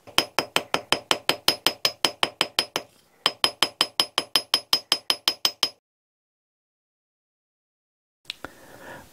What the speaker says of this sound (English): I'll be able to put it on the anvil and forge this area here